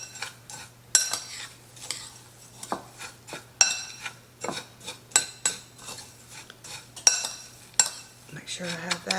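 A utensil scrapes and clinks around a bowl, mixing seasonings with onion powder and salt for sour cream and chive chicken. Irregular taps and scrapes sound close over a low steady hum.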